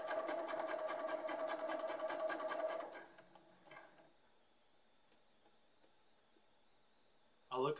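Sewing machine running a straight stitch, a fast rhythmic mechanical whir for about three seconds close by, then stopping to near quiet with a brief clunk at the end.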